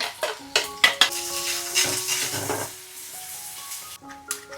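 Cumin, a pinch of asafoetida and a medium onion frying in hot oil, a steady sizzle with sharp clinks of a utensil and stirring scrapes against the pan, close and alone without talk.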